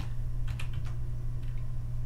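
Computer keyboard keys tapped in a short burst of quick clicks, then a few more after a pause, close and fairly soft, as letters are typed into CNC design software.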